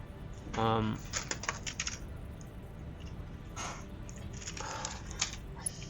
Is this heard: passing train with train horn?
no